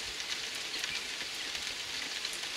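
Steady rain falling outdoors, a soft continuous hiss of drops at moderate-to-faint level, even throughout with no speech over it.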